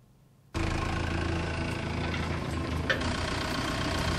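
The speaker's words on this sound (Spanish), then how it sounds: "un tractor arrastra lentamente un dispositivo entre los árboles" A tractor engine starts up in an avocado plantation on a kibbutz in central Israel, a sudden loud steady mechanical drone and rumble that continues evenly after a quiet opening.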